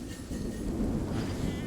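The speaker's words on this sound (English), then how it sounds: "That's a bit of a thunderstorm over there in the background." A thunderstorm in Kingdom Two Crowns: Norse Lands, a low, continuous distant rumble of thunder with a soft hiss of rain over it, brief and steady.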